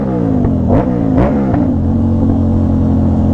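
A motorcycle with an aftermarket exhaust revs hard in a few sharp throttle blips, then settles into a loud steady drone, close and prominent.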